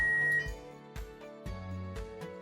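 A concrete pump's outrigger alarm sounds in steady repeating electronic tones, about two per second, with a tonal whine at first and no talk.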